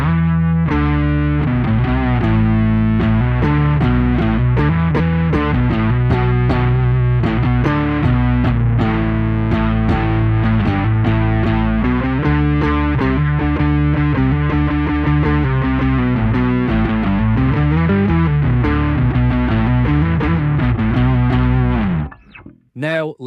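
Electric bass run through a Darkglass Kaamos pedal with octave and drive blended in parallel, giving a continuous distorted bass line with a clean sub-octave beneath, loud and up close, stopping just before the end.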